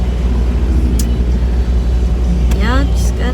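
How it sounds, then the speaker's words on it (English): A car engine idles high at around 1800 rpm, with a loud, close, steady low rumble throughout. A brief voice rises over it near the end. The car has a cooling system fault and a suspected head gasket problem. "The idle is super high at like 1800 or less"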